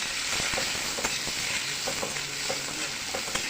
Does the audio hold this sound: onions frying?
yes